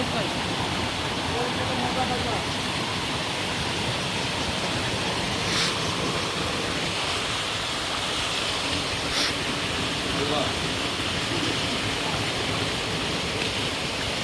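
Jhorjhori waterfall in Sitakunda, Chittagong, fills the scene with a constant, even roar of rushing water, close and unbroken.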